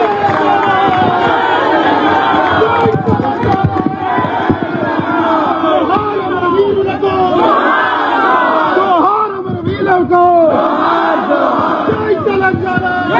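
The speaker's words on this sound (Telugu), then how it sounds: "ప్రొఫెసర్ నాగేశ్వరరావు గారికి గట్టిగా చప్పట్లు కొట్టాల్సిందిగా కోరుతున్నాను." A large outdoor crowd at a political rally in Hyderabad roars, cheers and shouts together in a dense, loud, continuous wall of voices, with brief dips before the noise swells again.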